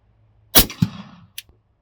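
Suppressed 45-70 lever-action rifle firing a subsonic 500-grain expanding bullet into water: one sharp muffled report, a quick thump and short tail, then a faint clack, in an otherwise quiet outdoor setting.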